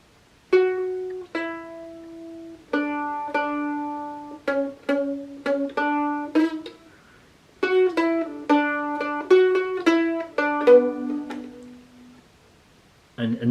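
A mandolin picks the verse melody of a song alone and up close: crisp plucked notes in a bouncing rhythm, phrases separated by short pauses.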